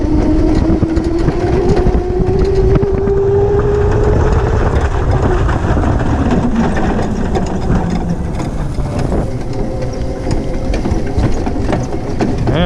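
An electric SurRon-powered cyclekart rides along with a rising then falling motor whine under steady rattling and rumbling from the chassis and road, loud and close throughout.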